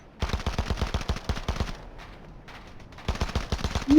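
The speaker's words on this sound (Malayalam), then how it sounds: "ബുള്ളറ്റ് കേൾക്കാം. നമുക്ക് ബുള്ളറ്റ് കേൾക്കും." Rapid automatic gunfire in the video game Fortnite, loud close bursts of sharp shots with a short lull of softer distant fire before another burst.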